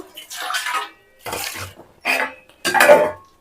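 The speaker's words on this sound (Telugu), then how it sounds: "ఇంకా నేనైతే ఇక్కడ గిన్నెలు అయితే బయట వేస్తున్నాను" Metal pots and dishes are set down and handled outdoors at a village home, giving several separate clattering bursts with short pauses between them.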